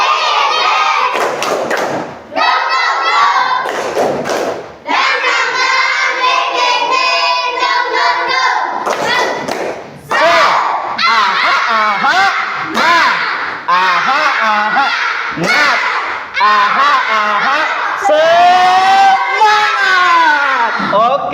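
A school class performs the tepuk semangat chant, sharp thumping claps in rhythmic bursts alternating with children's voices shouting the call-and-response lines, loud and close.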